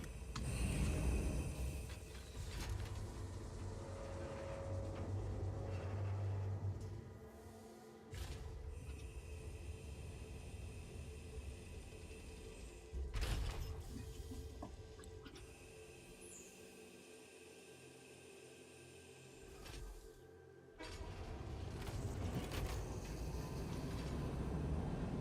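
A train rolls along its track in the factory-building game Satisfactory, a steady mechanical rumble with faint rail clatter that holds throughout, dipping briefly at a few points before resuming, with no talk over it.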